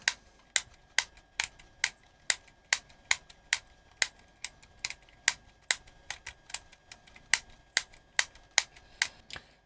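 Plastic keys on a Roberts Rambler radio clicking in a steady series of sharp, close taps, each press crisp and separate, with no voices.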